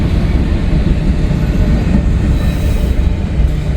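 A freight train carrying an articulated auto rack rolls past in the snow, a loud, close, steady rumble of wheels on rails with faint squeals and clatter and no talking.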